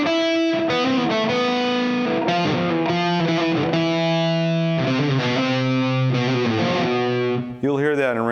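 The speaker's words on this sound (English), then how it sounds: "There's a classical technique known as a mordant, where you play a note and you go above the note, below the note, back to the note" Heavily distorted electric guitar plays a classical mordent figure, a note flicking above and below itself. Sustained, saturated notes run continuously with quick ornamental turns, loud and alone.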